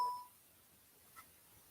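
A phone gives a short electronic beep at the start, a brief clear tone that fades, followed by quiet room tone with a faint tap.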